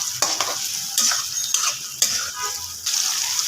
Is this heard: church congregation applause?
no